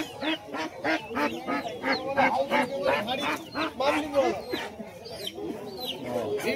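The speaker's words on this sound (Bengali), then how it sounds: "মোরগ আছে, হাঁস আছে, দিয়ে মুরগি আছে দুটো" Ducks quack and chickens cluck in a busy live poultry market, a dense mix of overlapping calls from nearby cages running throughout, with people talking in the background.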